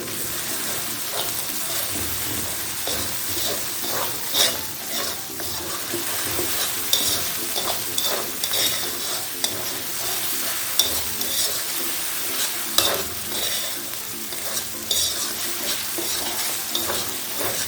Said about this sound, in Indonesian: Dan saya akan masukkan daun kari.